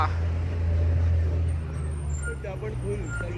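Heavy traffic streams along a busy road on the Konkan-to-Mumbai route, a steady, loud low engine rumble of passing cars, buses and trucks that holds throughout, with faint voices in the background.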